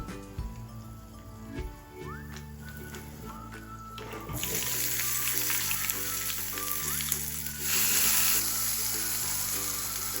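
Cumin seeds, a couple of dried red chillies and a pinch of asafoetida crackle and sizzle in hot oil with mustard seeds, the frying hiss swelling louder partway through and staying steady, with faint music running beneath.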